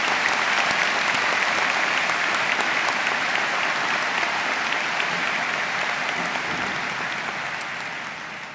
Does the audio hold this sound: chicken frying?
no